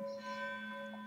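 A bell rings in the Warhammer Vermintide video game, a single sustained tone that hangs steady and clear at moderate loudness.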